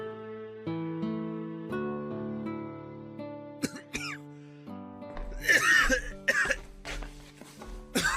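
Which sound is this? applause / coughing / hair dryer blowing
coughing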